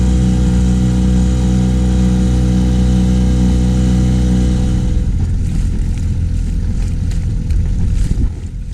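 A Mariner 3.3 two-stroke outboard runs on a boat on Loch Earn with a steady, loud, buzzing drone for about five seconds. The tone then gives way to rougher wind and water noise.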